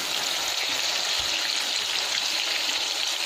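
Cashews fry in hot oil until golden brown, giving a steady, dense crackling hiss like light rain, close and even throughout.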